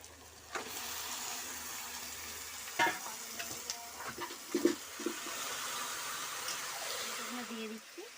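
Onions browning in hot oil with a pinch of sugar and salt, for a goat meat curry, give a steady broadband sizzle with occasional stirring clatters and brief louder pops throughout.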